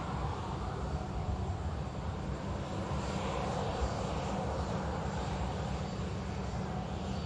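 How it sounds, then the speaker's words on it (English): An Airbus A350 departs Manchester Airport, its jet engines making a steady, broad roar that holds at a moderate distance and loudness throughout, with no voices. "Lovely 350 departure coming up"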